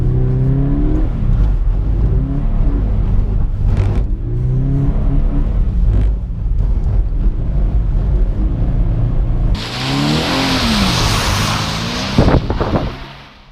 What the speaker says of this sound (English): Let's see how it looks like when the car is going into action.